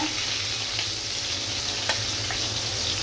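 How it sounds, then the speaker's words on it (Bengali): Hilsa fish frying in a pan, the second side cooking after being flipped, a steady dense sizzle that stays loud and close throughout, with a few faint clicks and no talking. "আরেক পিঠ আরও কিছুক্ষণ ভেজে নিতে হবে"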